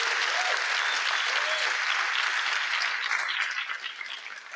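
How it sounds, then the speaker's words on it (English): Audience applause at a campus-focused political convention plenary session, a dense wash of many hands clapping together, steady and full for several seconds before thinning out toward the end. "Big round of applause for Carson and Althea."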